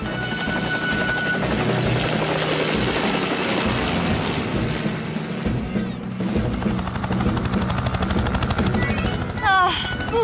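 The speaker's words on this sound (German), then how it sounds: "da kommt Tom mit dem Hubschrauber" A cartoon rescue helicopter in a children's firefighter animation flies in toward the cliffs, its steady loud rotor drone filling the scene throughout, with music and voices underneath and a brief burst near the end.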